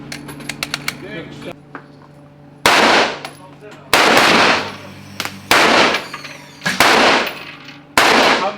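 Gunfire at a shooting range in Poland: a few light clicks, then about six loud, sharp shots spaced roughly a second apart, each ringing briefly, with people talking nearby.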